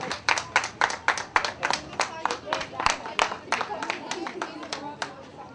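Shopkeepers and tourists along a street applaud a memorial march for the Marmara earthquake anniversary where Atatürk photos are carried. Distinct hand claps come in a loose, rhythmic patter, fairly close and crisp, and ease off gradually.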